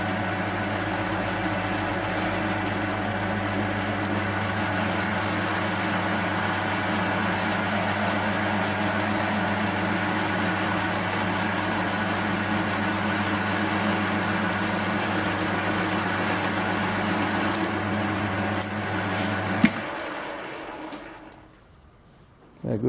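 Home-cast aluminium round stock turned dry on a lathe with a cheap TCMT carbide insert at medium feed: a steady, loud machining drone with low motor hum that runs unbroken for about twenty seconds, then stops and winds down.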